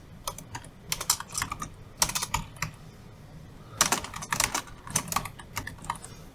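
Keys clatter in uneven bursts as someone types a school name into an online application form on a computer keyboard, quick clusters of clicks separated by short pauses, close and clear with no talking.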